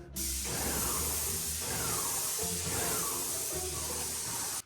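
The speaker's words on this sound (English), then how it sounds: "I can spray it like this all day long." Paint spray gun hissing steadily and loudly while coating a small 730 sq ft house under renovation, with a continuous broadband spray sound broken by brief pauses between passes.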